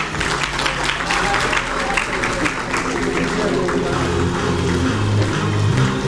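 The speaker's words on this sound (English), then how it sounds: "Give them a big round of applause." Audience at a hackathon valedictory ceremony claps in a sustained, loud round of applause that carries evenly through the whole stretch, with a low murmur underneath.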